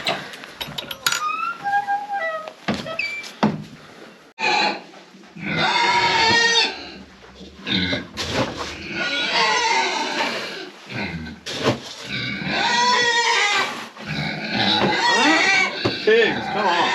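Barn livestock, pigs among them, grunt, squeal and bleat during feeding time in a barn on a snowy day. The animal calls come in bursts, and a person talks between them.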